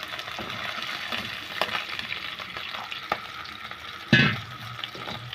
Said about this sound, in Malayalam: ആവശ്യത്തിനുള്ള വെള്ളം ഒഴിച്ച് കൊടുക്കാം